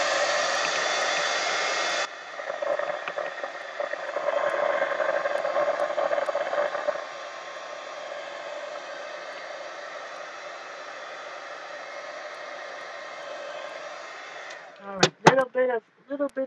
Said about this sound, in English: I think I can speed this up though with a heat gun